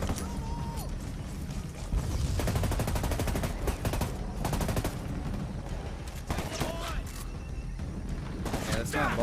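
Rapid bursts of gunfire from a Ghost Recon video game rattle on continuously, loud and close, with repeated sharp shots and mechanical clatter while people talk over the action.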